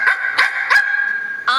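Ein, the Welsh corgi from the Cowboy Bebop anime, barks loudly and up close, four sharp yips in a quick, uneven rhythm, with a faint voice underneath.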